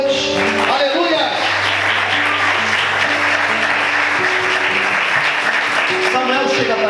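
A church congregation applauds steadily throughout an evening service, dense continuous clapping with a sustained low tone beneath and a voice speaking over it.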